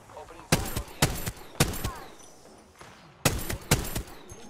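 Bursts of rapid gunfire from Apex Legends crackle in several loud volleys with short gaps between them, close and sharp, with game sounds in the background.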